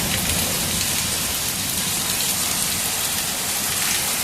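A hailstorm lashes Hyderabad with rain and hailstones falling in a loud, unbroken wash of patter and hiss that holds level throughout, with nobody speaking.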